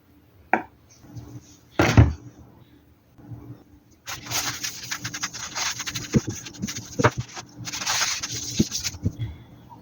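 A cast iron knife-sharpening lap is wiped with a napkin and oil. A couple of knocks come first, then close rhythmic rubbing and scrubbing strokes follow in two loud bursts.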